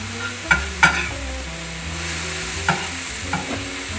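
Garlic for a vegan vodka sauce sizzles in a hot pan, a steady close fry broken by a few sharp clanks and scrapes of stirring.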